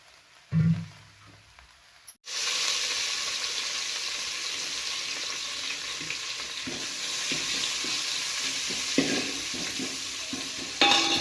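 Food fries in a pan after coriander is added, with a loud steady sizzle starting after a brief quiet moment and soft scraping of stirring throughout.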